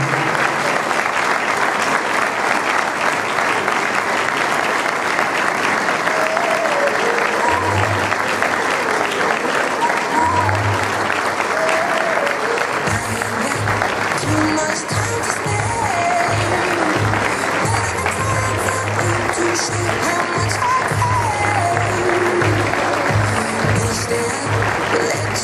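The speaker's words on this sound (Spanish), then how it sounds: "con este cálido, afectuoso y amoroso aplauso." Warm, sustained applause from an audience at the centenary ceremony of Villa Mitre, a dense clapping crowd that continues throughout, later joined by rhythmic music with a beat and speech.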